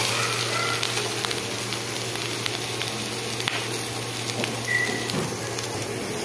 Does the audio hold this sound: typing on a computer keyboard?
no